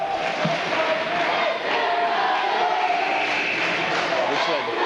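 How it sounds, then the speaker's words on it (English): Crowd noise rising at a girls' high school basketball game in a gym, a steady wash of cheering and shouting voices filling the whole stretch, with a few distinct calls poking through. "Yeah, we get a little cheer."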